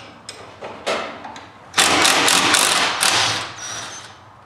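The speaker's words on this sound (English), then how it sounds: "Now I'm using power tools, but of course you can use handheld tools if you want." Power tool, likely an impact driver, removing bolts from a Club Car DS golf cart spindle during a lift kit install; a few short bursts, then a sustained loud whirring-rattling run with brief pauses, close up.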